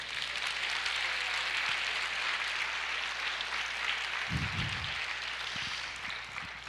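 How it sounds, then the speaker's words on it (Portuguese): A church congregation applauds the Lord during a Portuguese-language sermon, a steady wash of many hands clapping continuously at moderate volume with no one speaking. "Você pode aplaudir o Senhor?"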